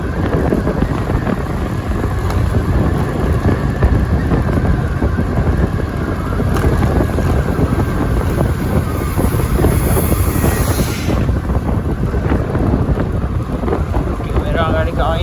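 Cold wind buffets the microphone in a loud, continuous low rumble that swamps everything else for the whole stretch.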